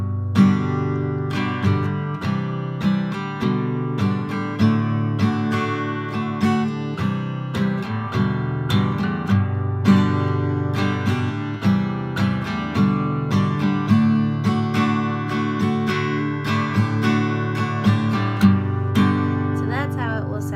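An acoustic guitar strums simplified chords of a song in a steady, even rhythm, the strokes clear and close, continuing throughout without any voice.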